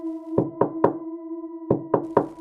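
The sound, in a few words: soft quick knocking on a door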